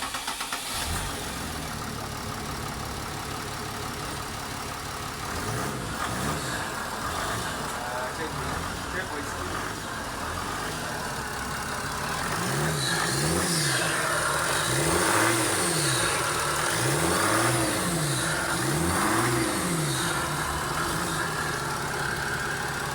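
Rebuilt Mercedes ML engine idling steadily, then rising through several repeated revs that swell and fall in a regular rhythm, close and loud, with voices talking over it.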